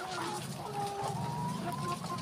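Many laying hens about 141 days old cluck and murmur together nearby in an overlapping chorus, with some higher drawn-out calls rising above the steady background.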